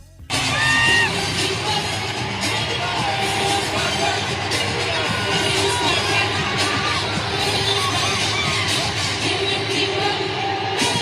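A concert crowd at the Destiny's Child reunion with Beyoncé, Kelly Rowland and Michelle Williams roars in loud, sustained cheering and screaming, with whoops and yells rising over a dense wall of noise that carries on throughout.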